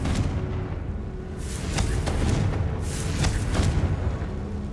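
A Confringo blasting spell in Hogwarts Legacy fires again and again, each blast a fiery crackle that swells into booming bursts over a steady roar of game ambience. The blasts come loud and close, with no talking.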